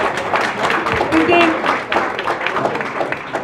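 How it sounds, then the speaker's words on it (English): A short burst of audience clapping and cheering for volunteers at a youth summit community event, with voices mixed into the noise. "let's give a big round of applause for our volunteers today"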